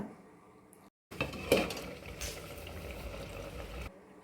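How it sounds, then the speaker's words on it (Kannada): Mushroom and egg curry simmering in a covered pot, a steady soft bubbling hiss with a couple of lid and metal clinks near the start, fairly close and without talk. "ಚೆನ್ನಾಗಿ ಕುದಿ ಬರಲಿ"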